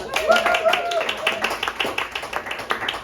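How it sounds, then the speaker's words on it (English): A comedy-show audience in Seattle claps in a short, steady burst of close, crisp handclaps, with voices mixed in underneath. "One more hand of applause."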